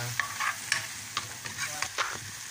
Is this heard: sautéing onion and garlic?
yes